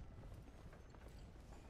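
Horse hooves clip-clopping at a steady trot in the video game Red Dead Redemption: Undead Nightmare, a continuous close, even rhythm of muffled impacts throughout with no talk.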